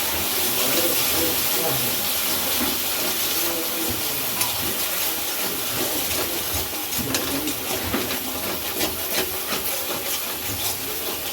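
Spices with salt, sugar and a little turmeric sautéing in a pan for a vegetarian jackfruit-style curry, giving a steady, close, continuous sizzle with scraping stirs and faint kitchen clatter, no talk.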